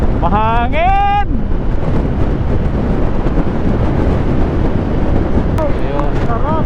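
Strong wind roars continuously into the microphone on a motorcycle ride along Ilocos roads, loud and unbroken, with a brief voice rising and falling near the start.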